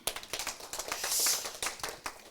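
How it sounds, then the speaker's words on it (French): Applause from an audience at an architecture prize award ceremony, a dense burst of many hands clapping at moderate level, swelling briefly in the middle before easing off, with no voices over it. "On peut l'applaudir également."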